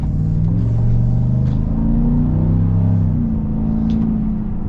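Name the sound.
Chevy Trail Boss V8 engine accelerating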